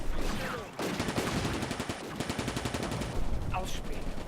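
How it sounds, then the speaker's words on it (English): Gunfire from an Italian tank shooting at a carrier in the Combat Mission: Afrika Korps battle at Bir Hakeim, heard as rapid mechanical bursts of fire over battlefield rumble, with a voice talking at the edges. "the Italian tank, I think, is shooting at the carrier now"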